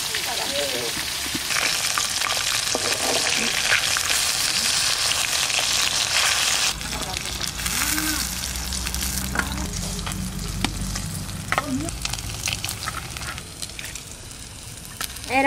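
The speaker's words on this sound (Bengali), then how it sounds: "এরকম করে সব মাছ ভেজে নেব।" Pieces of fish frying in hot oil in a pan for a Bengali fish curry, a loud continuous sizzle and spatter with stirring scrapes, settling into a softer crackle partway through.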